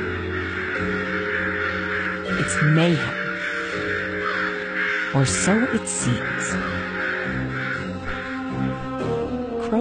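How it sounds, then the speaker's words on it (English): Loud, harsh crow caws ring out repeatedly over a busy background, with a person speaking briefly over the racket. "A passerby discovers it first and lets out a piercing call."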